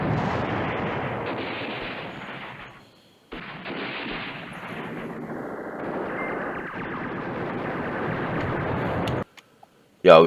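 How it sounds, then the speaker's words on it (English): Airstrike explosions in the wartime strategy game Command Ops 2 roll out as a dense, continuous rumble of blasts and gunfire. A brief pause comes partway through, and the barrage cuts off sharply near the end. "Yeah, we've got an airstrike,"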